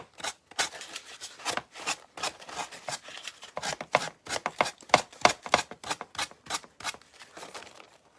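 Paper and fibers for a decoupage craft project are chopped and snipped in a quick run of sharp, crisp cuts, close and rhythmic with brief gaps, and no voices.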